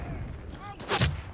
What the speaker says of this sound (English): There's a dude with a mortar here.